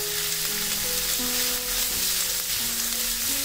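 Chopped beans, capsicum and carrot stir-fry in a pan for Bengali-style fried rice, a steady, dense sizzle with soft background music underneath.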